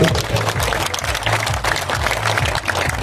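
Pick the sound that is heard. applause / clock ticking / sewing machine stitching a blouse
applause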